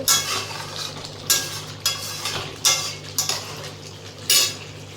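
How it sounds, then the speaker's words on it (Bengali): Potato curry with badi and green chillies being stirred and sautéed in a pan, a low sizzle under repeated clinks and scrapes of a metal spoon against the pan at an uneven pace, with no voices. "দিয়ে আবার একটুখানি নাড়াচাড়া করে নেব কষিয়ে নেব"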